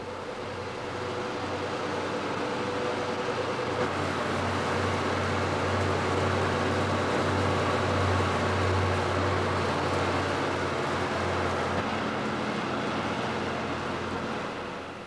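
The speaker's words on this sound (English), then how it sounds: "Here they are being spun very quickly and wound onto spindles." Spinning machines spin yarn quickly and wind it onto spindles, producing a steady loud mechanical whir with a low hum that holds evenly throughout, with no talk.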